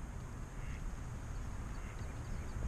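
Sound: duck quacking

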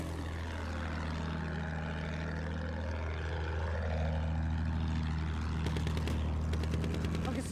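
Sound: biplane flying overhead in video game Battlefield 1

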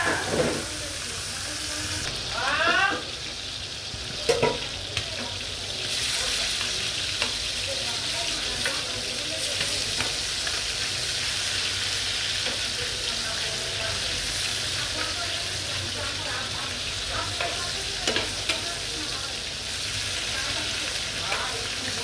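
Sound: fish frying in oil

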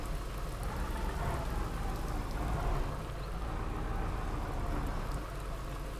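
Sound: rain in the video game Spintires

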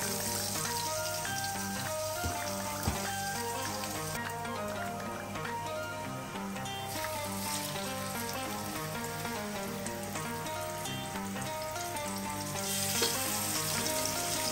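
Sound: tandoori chicken drumsticks frying in a pan

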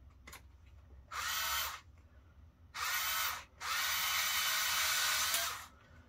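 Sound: electric drill making a hole on a balcony

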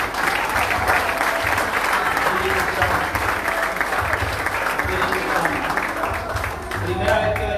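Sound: applause

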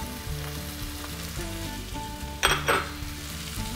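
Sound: bell peppers sizzling in frying pan

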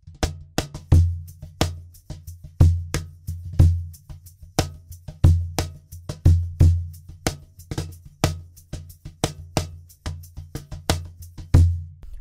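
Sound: cajon groove with foot shaker playing eighth notes

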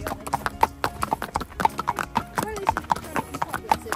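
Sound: pony hooves clip-clopping while being ridden

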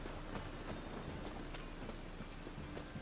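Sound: rain in the video game The Witcher 3: Wild Hunt

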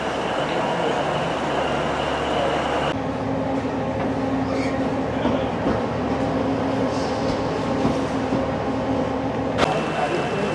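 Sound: passing train

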